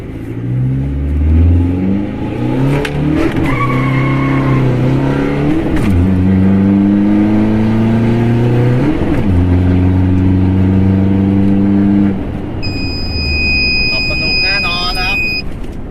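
A 1.9 Blue Power engine fitted with a turbo 42 and a remap revs up through rising gear pulls, loud and close, with a whistling turbo whine near the end.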